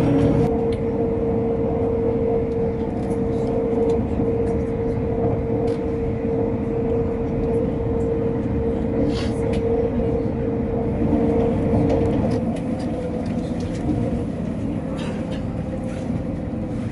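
A passenger train on the Trainspotting Express service nears Leeds, a steady, unbroken rumble with a constant low droning hum running beneath it and no voices.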